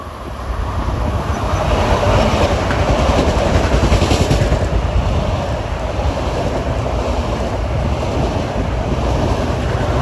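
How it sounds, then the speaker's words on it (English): Train 6114 from New York to Babylon approaches at a Long Island station, a loud, broad rushing rumble that builds and holds steady with wind-like noise and no talking. "Approaching now is train 6114 from New York to Babylon at 3:57."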